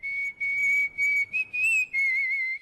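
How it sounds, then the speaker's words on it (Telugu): A steady, high-pitched whistle in a Telugu film scene, held in several sustained phrases with short breaks and slight pitch rises, close and clear with no talk. "ఏ విజిల్ అంత బాగుందా?"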